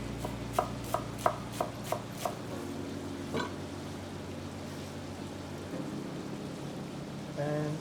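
A knife roughly chopping parsley on a board, about six sharp, evenly spaced taps close by, then stopping, followed by quieter kitchen clatter over a low steady hum.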